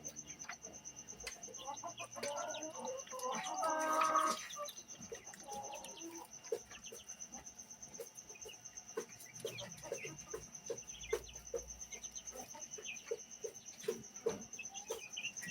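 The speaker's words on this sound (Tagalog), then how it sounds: "Yan naman yung mga Rhode Island chicks natin." Rhode Island chicks give a steady run of small, high, repeated peeps close by, with a louder burst of chirping near the start, over a constant background hum and no talking.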